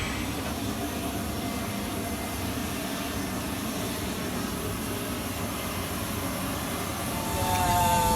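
Steady broadband roar inside the cabin of an airliner in flight carrying National Guard troops, a constant engine and air rush that swells slightly near the end.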